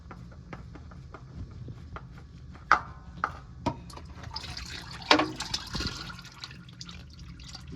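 Oil trickles and drips from a loosened filter on a 2022 Chevy Tahoe with a 5.3L engine, a soft, close liquid flow with a few sharper drips and splashes over low background noise.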